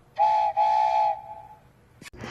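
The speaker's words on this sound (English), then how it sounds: "This locomotive is our ticket out of here, Todd." A locomotive whistle from The Loud House cartoon sounds in two loud, close, sustained tonal blasts with a brief gap between them, then fades into quieter clatter.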